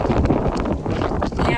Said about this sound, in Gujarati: જુઓ એટલો બધો બહુ પવન આવે ને ઉપર.